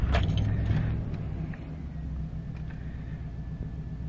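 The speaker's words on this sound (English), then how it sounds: "To verify, you can go ahead and start the truck." A 2011 Chevy Silverado truck starts: keys jingle briefly, then the engine catches and settles into a low, steady idle rumble close by, with no voices.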